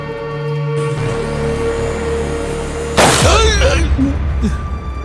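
A gunshot effect in a TV crime drama: a sudden loud, sharp crack that rings on for about a second, breaking into a steady machine-like hum that plays on underneath.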